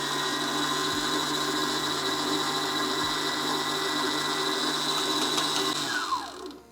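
A KitchenAid stand mixer whips eggnog ingredients with a steady, loud motor whine and rhythmic churning up close, then slows and winds down at the end, with no talk.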